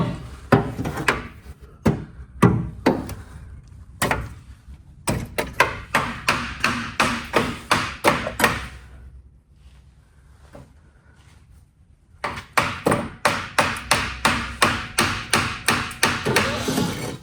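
Hammer taps ring out on a stuck part of a sitting 1961 VW Beetle, loud and close: scattered heavy blows at first, then steady rhythmic strikes in long runs, broken by a quiet gap midway.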